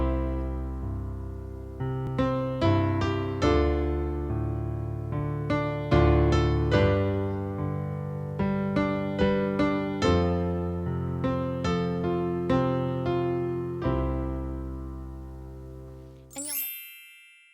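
Piano improvisation in which both hands play sustained chords with added fill notes, a steady flow of ringing struck notes that fades out at the end.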